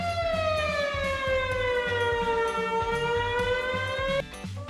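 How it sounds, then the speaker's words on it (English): Fire truck siren wailing loud and steady with a long falling tone that dips and slowly rises again, cut off abruptly near the end over a low rumbling engine. "Fire truck."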